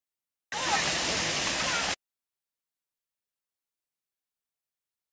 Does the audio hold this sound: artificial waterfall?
yes